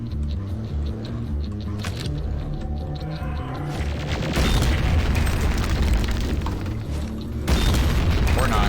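Heavy booming C4 explosions in the shooter game Doom II, with sustained low rumbling blasts that swell louder near the middle and again toward the end, layered over continuous game noise.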